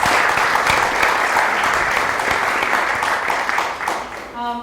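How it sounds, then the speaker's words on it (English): A panel audience applauds its speakers on service leadership, with a dense, loud wash of clapping sustained across the whole stretch before tapering at the very end, where a voice begins. "Please give them a big round of applause for being with us."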